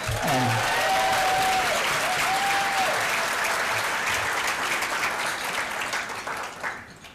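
An audience at a school annual dinner in Boston claps loudly and continuously, the applause filling the room and then tapering off near the end, with a brief voice heard early on.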